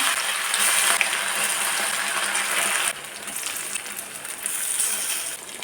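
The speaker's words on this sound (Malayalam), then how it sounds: "ചിക്കൻ വറുക്കാൻ വേണ്ടി നമ്മൾ സൺഫ്ലവർ ഓയിലാണ് എടുത്തിരിക്കുന്നത് കേട്ടോ ഇതിലേക്ക് നമുക്ക് കുറച്ച് കറിവേപ്പില ഇട്ട് കൊടുക്കാം ഇനി ചിക്കൻ കഷ്ണങ്ങൾ ഇട്ട് കൊടുക്കാം" Chicken pieces with curry leaves frying in sunflower oil give a steady, close sizzle and hiss that dips in loudness midway, then rises again.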